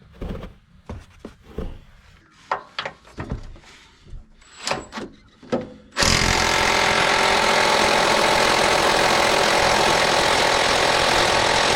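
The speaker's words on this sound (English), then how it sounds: "Extensions can absorb a lot of energy out of an impact tool." An impact tool hammers loose the engine mount nuts on a Subaru Impreza's FB20 engine, with a continuous loud rattling burst running steadily for several seconds, preceded by scattered clanks and knocks of tool handling.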